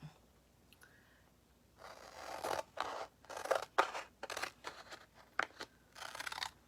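Scissors cutting material for box-framed decor pieces, a run of quick close snips in a loose rhythm after a quiet start, with no speech.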